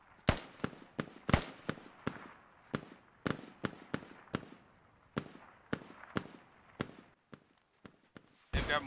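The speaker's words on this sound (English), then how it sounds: "They've got mortars going in." Mortar rounds explode in the video game Squad around a castle, a long run of sharp, distant-sounding blasts at uneven intervals, with a heavier burst near the end.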